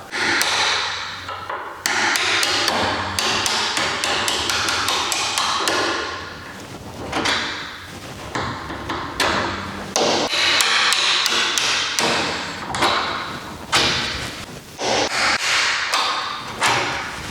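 A hammer taps a nail set to drive hinge pins out of a wooden door. Sharp metallic blows come close and loud in quick repeated bursts, with short pauses between runs.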